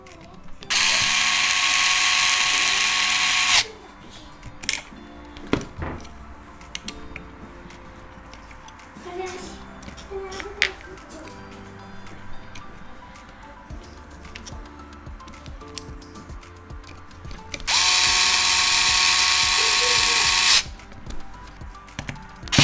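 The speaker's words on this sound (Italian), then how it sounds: "e andiamo ad avvitare le viti che vanno qui dietro" A small electric screwdriver drives screws into the rear of a DJI Avata drone frame fitted with an Axis Flying 3.5-inch conversion kit, two loud whirring bursts separated by quiet clicks and handling of parts.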